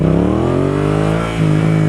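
A Yamaha XSR700 motorcycle accelerates hard in first gear with the front wheel lifting, its engine rising in a loud, close, steady rev with a brief dip before climbing again.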